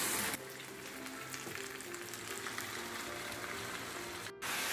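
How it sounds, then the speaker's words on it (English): Lamb pieces sizzle and fry steadily in a pan of curry gravy, a close, continuous crackle with no talking and a brief dip near the end. "Now fry for 10 minutes."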